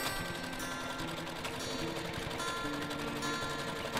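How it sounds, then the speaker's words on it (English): Sewing machine stitching fabric with a short, compact stitch length while making a zipper pouch: a steady, dense mechanical whir with fine ticking runs without pause, close and fairly loud, with no talk. "I'm stitching at stitch length too, so it's nice and compact"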